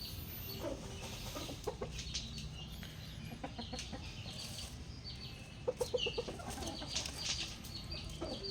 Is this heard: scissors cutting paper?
no